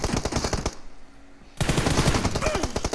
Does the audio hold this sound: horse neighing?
no